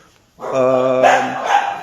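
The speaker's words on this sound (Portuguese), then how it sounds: "Cachorros." A dog gives a single close, loud bark that trails into a brief whine, heard alone after a quiet moment.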